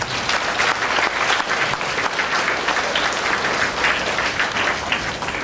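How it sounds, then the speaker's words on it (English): Audience applause at a school Independence Day celebration, a dense steady patter of many hands clapping at even loudness throughout, with no pauses. "Can I have a round of applause?"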